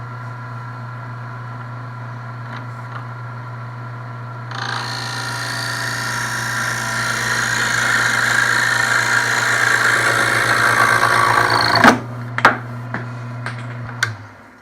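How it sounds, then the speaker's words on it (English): A wood lathe spins with a constant low motor hum, then a 1/8 inch parting tool bites into the turning wood with a loud, sustained rough scraping that swells, then cuts off into a few sharp knocks near the end. "when I part, I'm using a 1/8 inch parting tool"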